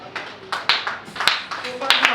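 Church congregation applauding at a deliverance and restoration vigil, rhythmic bursts of clapping repeating about every half second, with voices mixed through.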